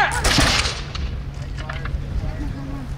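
1770s muskets fired in a drill volley: a loud, crackling burst of near-simultaneous shots at the start that fades into outdoor ambience with scattered faint pops.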